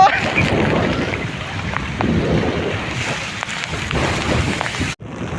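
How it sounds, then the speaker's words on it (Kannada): Loud, dense monsoon rain with strong wind at Gokarna beach roars with gusting noise throughout, a broad constant wash that cuts out abruptly near the end. "ಭಯಂಕರ ರಣ ಭೀಕರ ಮಳೆ ಬರ್ತಾ ಇದೆ"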